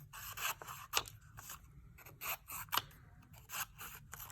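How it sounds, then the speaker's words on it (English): Scissors snip through black craft paper in a series of close, crisp cuts with short pauses between them and no talking. "So you're just kind of cutting your black paper."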